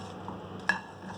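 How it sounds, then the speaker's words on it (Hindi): Whole round red chilies being stirred in a pan over a low flame, with soft scraping and one sharp clink of a utensil against the metal, close and brief. "गोल लाल मिर्च डाल देंगे, इसको भूनेंगे।"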